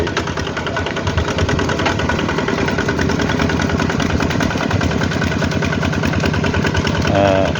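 A heavy tractor engine runs steadily at idle with a rough, chugging rhythm, loud and close throughout.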